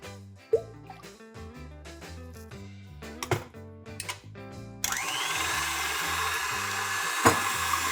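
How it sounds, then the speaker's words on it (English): Background music plays, then about halfway through an electric mixer starts beating egg whites until frothy for a retro Baked Alaska, a steady whirring buzz that continues to the end. "I'm gonna add the egg whites to the mixer and beat until frothy."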